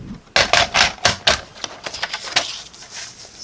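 A paper cutter slicing 4.5 inches off a sheet of card stock for a decorative box: a burst of sharp, loud, close clicking and ratcheting strokes, then softer irregular scraping ticks trailing off, no voices.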